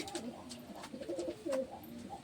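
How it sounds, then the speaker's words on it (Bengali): A Madras black-grain fancy pigeon coos softly at close range at a pigeon show, giving a few low, throaty calls over faint background noise. "এটা একটা ম্যাড্রাস কালোদানা পায়রা রয়েছে"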